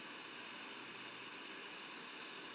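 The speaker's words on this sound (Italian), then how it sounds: "il rumore marrone," Brown noise background sound played from iOS 15, a deep, soft, rushing wash like a distant waterfall, steady and faint throughout without any talking.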